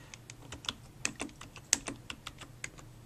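Steady typing on a computer keyboard, a close run of quick, light key clicks in an irregular rhythm with a few sharper taps, heard alone in a quiet room.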